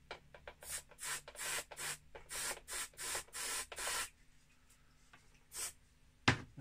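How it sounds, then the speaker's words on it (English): Switch cleaner hisses into a Ferguson Revolver 3T12 radio cassette in a quick run of short close bursts, then falls quiet with a few softer puffs and a light knock at the end. "It's a bit of switch cleaner."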